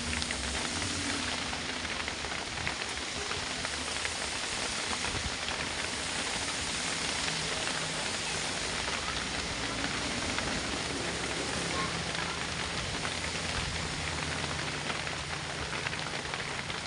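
Heavy rain pours down steadily on a slick road, a dense, unbroken hiss of drops hitting surfaces that holds at an even level throughout.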